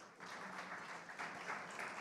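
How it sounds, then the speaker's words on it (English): Distant, faint applause from an audience at an awards ceremony welcoming jury members and winners, a soft continuous patter of many hands with slight swells. "Can we have a round of applause, please?"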